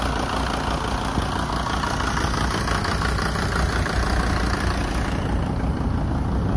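A used car's engine idles at a Bishkek car market, a 1985 model with a 2.9-litre engine, giving a steady, loud, unbroken rumble with no talking.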